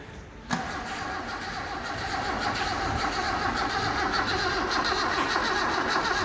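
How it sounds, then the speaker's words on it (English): A crashed Toyota KE70 cranks over continuously after an abrupt start, a steady mid-pitched engine drone held close and loud for several seconds without catching, despite a new battery and jumper leads. "It's not cranking much faster even with that battery, is it?"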